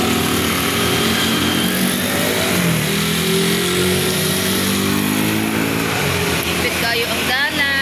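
Heavy trucks and other traffic roll past on a road, a steady loud engine rumble with rising and falling engine tones, and people talk over it throughout.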